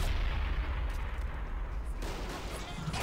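Sniper fire aimed at an enemy mortar in the World War II strategy game Men of War: Assault Squad, heard as dense, continuous booming artillery and gunfire with a heavy rumble throughout and no clear gaps.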